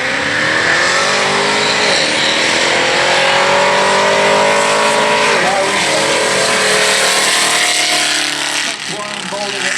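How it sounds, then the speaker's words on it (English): A Jeep SRT with four-wheel drive launches down a drag strip at an SCDRA race event, its engine roaring loudly and climbing in pitch through rapid gear changes, close and sustained for the full run. "Brian Boulder in that Jeep SRT on the spectator side"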